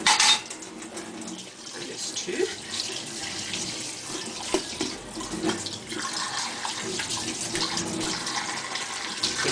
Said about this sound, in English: the inside, you're just rinsing it with hot water